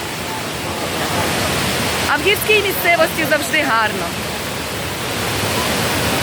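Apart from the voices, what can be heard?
Kravica waterfall in Bosnia and Herzegovina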